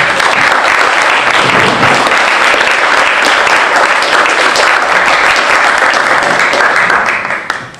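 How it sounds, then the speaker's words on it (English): Audience at a cinema lecture about Buster Keaton applauds the guests in a loud, sustained burst of dense clapping that carries evenly throughout, then tapers off right at the end. "Please a big round of applause for them."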